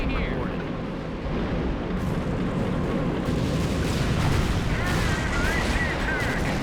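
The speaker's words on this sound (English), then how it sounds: "Nice barrage from the Calliope." Calliope rocket barrage in Company of Heroes, a continuous roaring stream of rocket launches and explosions rumbling for several seconds, with a commentator's voice talking over the battle noise.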